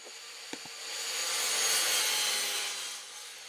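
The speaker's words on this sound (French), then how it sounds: "J'effectue toutes les coupes dans cette vidéo à l'aide d'une scie à onglet" A miter saw cuts through pallet wood with a rising, rasping whir that swells and fades over a few seconds, preceded by a couple of light knocks.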